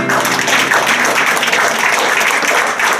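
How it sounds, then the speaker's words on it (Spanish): A congregation at a Christian worship service applauds in praise, dense continuous clapping from a crowd filling three seconds at strong, even loudness. "Demos un aplauso al Señor."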